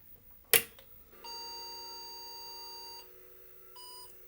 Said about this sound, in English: now at least it's beeping